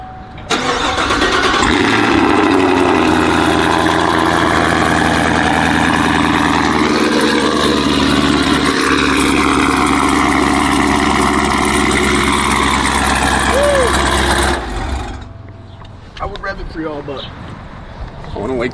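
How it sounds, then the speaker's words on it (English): A loud, rumbling car engine with modified exhaust headers runs continuously, deep and throaty, then cuts off abruptly, leaving quieter background noise. "he got some work done to the exhaust headers."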